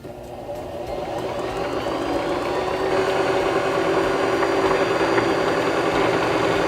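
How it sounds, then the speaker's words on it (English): A Singer sewing machine driven by its foot pedal winds thread onto a bobbin, producing a continuous motor whir that builds slightly in the first seconds and then holds steady and fairly loud. "now we can push down on our foot pedal again and wind the rest of our bobbin"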